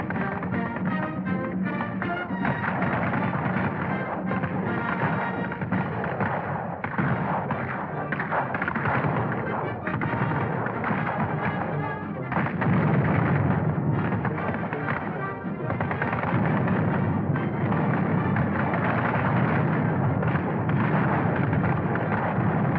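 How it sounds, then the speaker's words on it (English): Machine gun fire and heavy blasts ring out over soldiers at a WW2 training course, a dense, continuous barrage of bursts and thuds with narrator talk over it. "when teacher has a couple of machine gunners throwing real slugs an inch or two above your tail"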